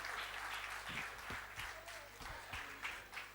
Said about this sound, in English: Give him a huge round of applause, and thank you so much,